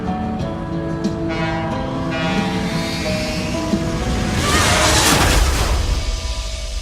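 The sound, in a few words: train passing in video game Life is Strange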